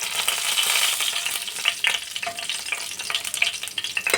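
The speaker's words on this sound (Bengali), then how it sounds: "আমি সর্ষের তেল নিয়েছি এবং কালো জিরে, জিরে, শুকনো লঙ্কা আমি ফোড়ন দিলাম।" Nigella seeds, cumin and dried chillies sizzle in hot mustard oil in a frying pan, a loud, continuous crackling hiss with small pops, close up and with no voices.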